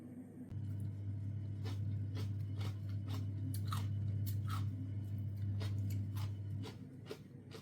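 Close, crisp crunching bites as someone chews fresh kimchi cabbage, several sharp crunches spread irregularly over a low steady hum.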